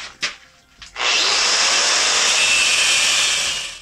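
A power tool cutting off a steel bolt to lock a nut in place on a homemade heavy duty door latch: a couple of brief knocks, then a loud, steady, high-pitched grinding whine held for about three seconds.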